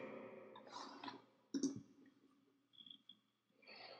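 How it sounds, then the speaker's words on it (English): A computer mouse gives a few faint, quiet clicks spaced apart in a hushed room. "Click on login."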